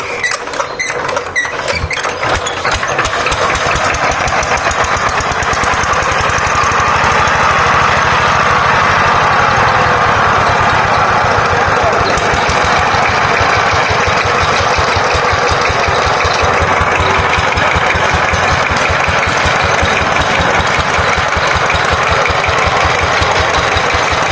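A power tiller's engine runs close and loud without a break, a steady rapid thudding chug that dominates throughout, with no speech over it.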